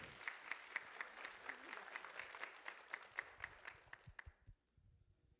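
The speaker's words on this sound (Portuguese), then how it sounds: "Uma salva de palmas para as esposas dos pastores." Church audience applauding pastors' wives, a dense burst of clapping that continues steadily for several seconds, then scatters into a few final claps and stops.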